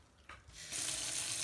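Cold tap water runs from a kitchen faucet over drained boiled potatoes, starting faint then swelling into a steady, close splashing stream with no talk.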